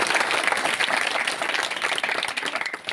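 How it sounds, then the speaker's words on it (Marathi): An audience at a religious discourse in Mangal Sangvi, Kandhar, Nanded, clapping in a dense, steady burst of many hands that turns slightly more uneven toward the end. "जोरदार टाळी वाजवा हे सगळ्यांना"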